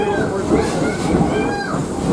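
A Greenfield Village train, Torch Lake Number 3, rolls along the line toward a station with a steady rumble and hiss and faint squealing wheel tones. The sound is continuous and moderately loud, with a voice speaking over it.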